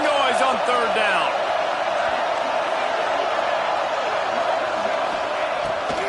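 Loud, sustained stadium crowd roar at a college football game on a third-down defensive stand, a dense wash of noise with whoops at the start.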